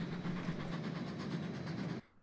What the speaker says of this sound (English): Alfred had collected a very lengthy train and was making his way towards Vickerstown